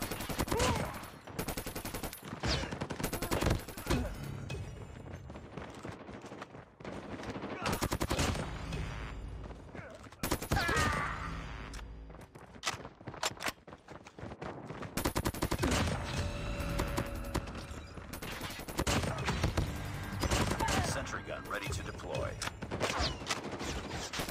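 Gunfire in Call of Duty Mobile (Season 11) crackles as dense, rapid automatic bursts and overlapping shots with brief pauses between them, with a player talking over the action.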